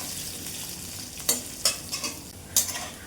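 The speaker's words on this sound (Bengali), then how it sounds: "আলুটাও লবণ হলুদ দিয়ে লাল লাল করে ভেজে নেবো।" Potato pieces frying with salt and turmeric in a pan for a bitter gourd and potato dish, a soft continuous sizzle broken by several sharp spatula stirs and scrapes close by.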